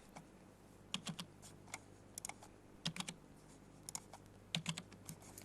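Keys on a computer keyboard tapped in short, crisp bursts of several strokes each, separated by brief pauses while text is entered into a spreadsheet, close and clear over a quiet room hum.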